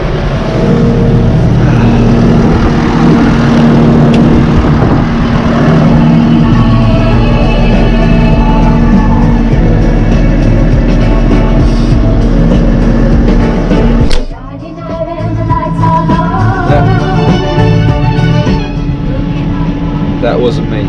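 A farm tractor engine runs with a steady low drone and rumble, briefly dropping out and then resuming with a shifted tone, while people talk over it.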